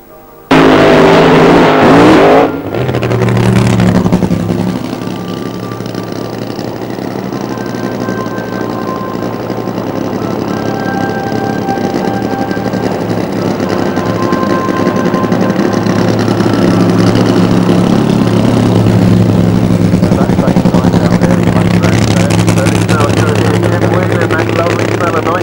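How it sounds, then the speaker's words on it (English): A drag racing car does a burnout at Santa Pod Raceway in 1990, a loud sustained engine roar running continuously after a brief surge at the start, with a commentator talking over it. "Absolutely tremendous burnout from Jim."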